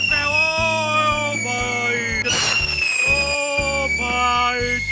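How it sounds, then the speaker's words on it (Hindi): Sky shot fireworks go off during Diwali celebrations, with loud whistling rising tones and a burst of crackling around the middle, sustained and close. "स्काई शॉट जबरदस्त है।"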